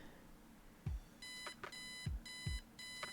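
An alarm clock in the point-and-click video game Kathy Rain beeps in three rapid repeated bursts, clear and electronic, punctuated by low thumps.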